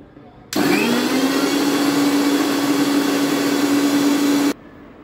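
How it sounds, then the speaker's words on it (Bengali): A mixer grinder blends a dragon fruit smoothie with a loud, steady whirring drone that starts abruptly, holds for about four seconds, then cuts off. "এবার মিক্সিতে পিষে নিলাম।"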